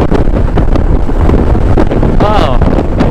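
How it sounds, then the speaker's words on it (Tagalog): Strong wind roaring over the microphone during a Honda ADV 160 scooter ride through Batangas, loud and constant, with a voice speaking briefly under the buffeting. "Lakas pa ng hangin, no?"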